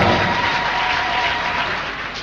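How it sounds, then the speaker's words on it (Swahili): A congregation at a church prayer service breaks into a dense, sustained round of clapping, loud and close, fading slightly as it ends. "Mpigie mama makofi kwa sababu ametangaza maombi ya kufunga siku 3 kali"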